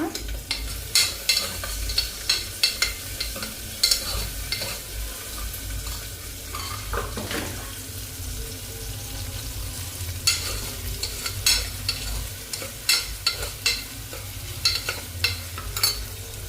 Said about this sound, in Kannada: ಈರುಳ್ಳಿ ಹಾಕೊಂಡು ಚೆನ್ನಾಗಿ ಫ್ರೈ ಮಾಡ್ಕೋಬೇಕು